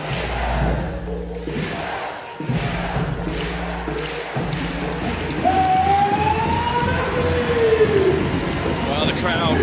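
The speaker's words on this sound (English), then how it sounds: "The crowd are ready and getting locked in as the thunderclap goes around the arena." A basketball arena crowd at a semi-final game performs a thunderclap, with booming, evenly spaced claps ringing out over a loud, constant crowd roar. A rising whistle-like tone cuts through later.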